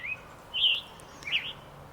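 Wild bird singing outdoors around a rural property, a few bright clear phrases near and fairly loud, separated by short pauses over quiet background hiss.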